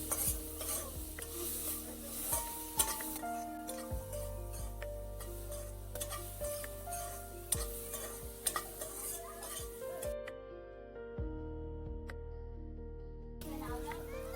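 Guava pieces stirred in a pan with salt, a spoon scraping and knocking against the metal in repeated strokes under a low hum, faint and close, with someone talking at moments.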